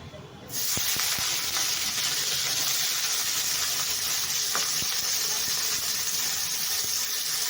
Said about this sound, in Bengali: হলুদ দিয়ে আলু পেঁয়াজটা আমি ভাজা ভাজা করছি।